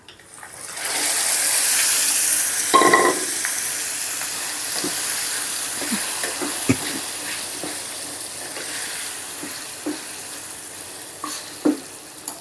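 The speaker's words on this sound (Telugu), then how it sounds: "ఇప్పుడు మనం ఉల్లిగడ్డల కారాన్ని కూడా ఇందులో వేసేద్దాం స్టవ్ని ఆన్లోనే ఉంచి వేస్తున్నానండి" Onion chili paste drops into a hot tempering and fries, a burst of loud sizzling that settles into a steady crackle with occasional stirring knocks, close and with no voices.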